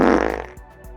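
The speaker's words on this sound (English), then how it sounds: "Now you're canceling cow farts?" A short, wet fart sound effect, a loud buzzing blurt that sputters out within a second, followed by a couple of faint trailing puffs.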